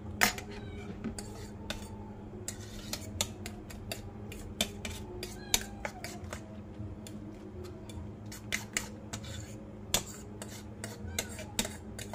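A fork clinks rapidly against a bowl while three eggs are beaten for a Filipino eggplant omelette, a quick irregular run of metallic taps close by over faint background hum.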